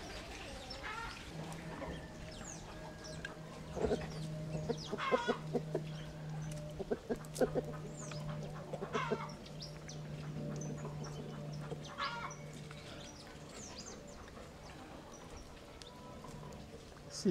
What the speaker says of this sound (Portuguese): Esse galo é bem educado, ele chama a galinha para se alimentar